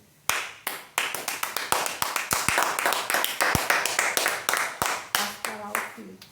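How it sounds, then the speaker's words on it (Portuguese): A church congregation claps together in a steady, loud rhythm of sharp hand strikes, sustained for several seconds after a brief quiet start, with a few voices mixed in. "Aplauda o Senhor."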